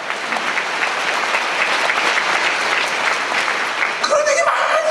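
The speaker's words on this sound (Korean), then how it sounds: "박수 세게 쳐요." A church audience claps hard and steadily, a dense, continuous burst of applause that keeps going at full strength until it ends.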